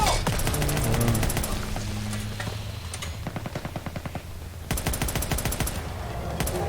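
A mounted turret machine gun fires in the World War II shooter Call of Duty WWII: loud, rapid, rhythmic bursts that run in long volleys, with a brief spoken word.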